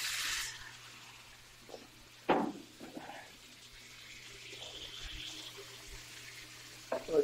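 Shrimp frying in a pan with oil, lemon juice and white wine, a soft, steady sizzle with a few brief louder spits and clatters, fairly quiet overall.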